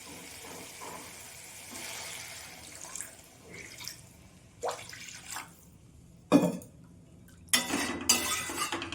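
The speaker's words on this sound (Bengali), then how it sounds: "এরপরে আমি জল দিয়ে দেবো" Water runs and splashes in short bursts into a pan of cooked-down fish curry masala with eggplant, Bengali style, mixed with clinks of a utensil against the pot, louder pours near the end.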